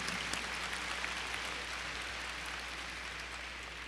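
Audience applause at a Dallas ISD scholar ceremony for event sponsors, a dense, even wash of clapping that holds steady, with a low hum beneath it.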